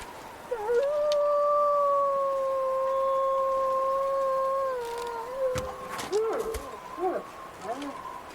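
A wolf in the survival game The Long Dark gives one long, steady howl lasting several seconds, followed by shorter wavering calls, loud and close against windy outdoor ambience.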